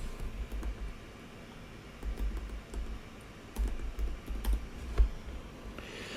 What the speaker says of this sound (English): I start typing these values from the top and use tab key to move down.